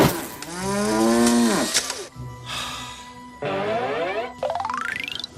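A cow moos three times in a row, each moo long, loud and drawn out, falling in pitch, with short pauses between them. A springy, wobbling tone follows at the end.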